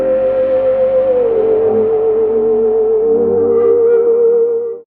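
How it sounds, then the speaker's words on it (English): Ominous synth lead for a dark beat, one sustained tone gliding down then holding, with layered harmonics, loud and alone, cutting off at the end. "the final thing I put on the intro was this ominous sounding lead"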